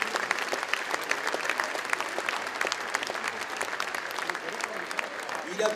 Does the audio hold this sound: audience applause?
yes